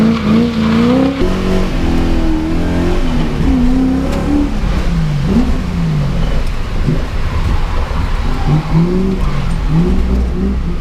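A drift car carries a passenger on a taxi-style ride, its engine loud and close as it revs up and down in surging waves, with tire squeal from drifting mixed in throughout.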